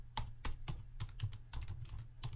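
Typing on a computer keyboard while entering a terminal command: about eight crisp, close keystrokes at an uneven pace over two seconds, with no talking.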